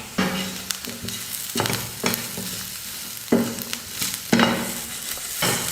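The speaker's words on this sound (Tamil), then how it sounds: "வெங்காயம் சேர்த்து 1 நிமிஷம் ஃப்ரை பண்ணிட்டேன்" Potatoes with onion and curry leaves fry in a pan, a continuous sizzle broken by repeated bursts of stirring and scraping at roughly one-second intervals, close and moderately loud with no talking.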